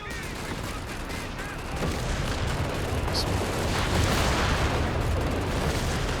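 Grenades explode in a Company of Heroes 3 four-versus-four battle, dense overlapping bursts and gunfire forming a continuous loud din, with a commentator talking over the chaos.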